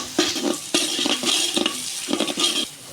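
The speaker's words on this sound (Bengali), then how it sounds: "আমি দিয়ে দিচ্ছি কারি পাতা, ডালগুলো, পাতাগুলো ছড়িয়ে নিচ্ছি ডাল থেকে।" Curry leaves hitting a hot pan for khichuri, with loud, close sizzling frying in bursts as a utensil stirs and scrapes through the pan, and no talk.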